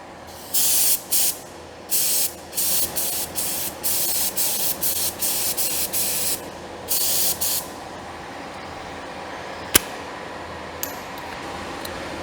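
A spray gun sprays thick spray putty onto a panel in about a dozen loud, hissing bursts of roughly half a second to a second each with short gaps between them, then stops, leaving a quiet room with a faint click.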